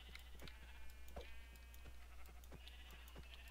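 Sheep in the video game Minecraft bleat several times, faint and slightly distant under steady low background noise and scattered game clicks, with no talk.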